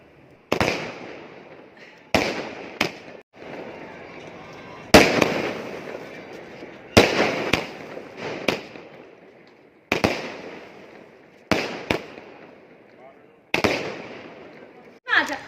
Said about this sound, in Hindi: ऊपर छत पे आके पटाखे छोड़े रात में